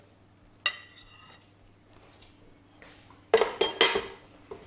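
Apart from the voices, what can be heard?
mixing butter into hot mashed potato in a bowl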